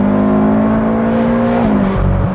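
A Ferrari California with a 4.3-litre naturally aspirated V8 runs loud and steady at high revs, then the pitch drops in two quick steps as it shifts or eases off.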